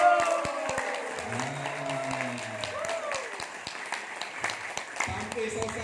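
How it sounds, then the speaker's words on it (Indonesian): An audience claps hands in scattered, irregular bursts while a person keeps talking over them. "Sampai selesai ya, kita tepuk tangan begini ya."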